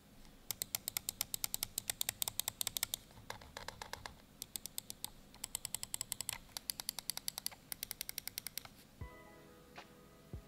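Gaming mouse with Huano Blue Shell Blue Dot switches clicked rapidly, crisp tactile snappy clicks in fast bursts and runs, close and fairly loud, ending with a few slower clicks.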